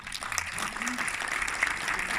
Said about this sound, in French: Bon, je crois qu'on peut applaudir